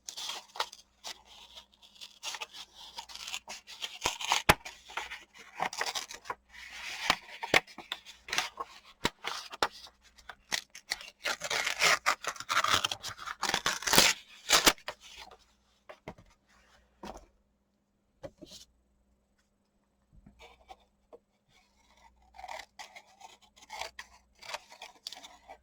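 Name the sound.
scissors trimming paper for an artist trading card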